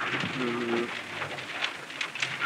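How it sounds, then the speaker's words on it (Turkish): Heavy rain pours down near the Meriç River on Turkey's border, a steady, dense hiss filling the air throughout with a brief low tonal sound near the start. "Bardaktan boşanırcasına yağmur yağıyor."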